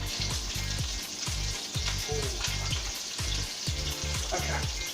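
A burger patty frying in a pan, a continuous close sizzle and crackle with rhythmic low thuds and scraping running underneath.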